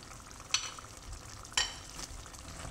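Fried onion, tomato paste and dry spices being sautéed for mutton handi, a steady soft sizzle broken by two sharp scrapes of a spoon against the pot, close and moderately loud with no talk.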